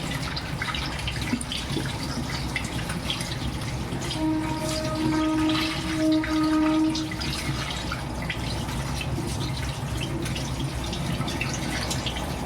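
Sweet potatoes are washed by hand in a vessel of water, with continuous sloshing, splashing and trickling up close and a faint tonal ring in the middle.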